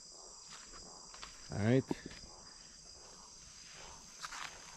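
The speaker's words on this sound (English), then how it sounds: "you can hear the sound of the insects and frog and different things in the jungle here" Insects and frogs chirring in the Guyana jungle at night, a faint steady high-pitched drone of insects throughout, with a brief louder call and someone speaking briefly over it.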